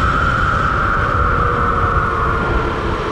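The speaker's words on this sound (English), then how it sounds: "It's a little hard to hear over the whine of the motor" A Sur Ron electric dirt bike fitted with a pedal kit runs with a steady, loud motor whine over a dense rumbling wind-and-road roar, constant and unbroken throughout.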